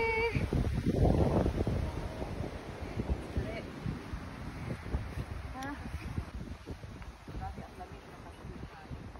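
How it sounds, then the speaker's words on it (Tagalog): Strong gusty wind while hiking in Japan buffets the microphone, roaring and rumbling throughout, with a voice briefly calling out early on. "Oh, ang lakas ng hangin!"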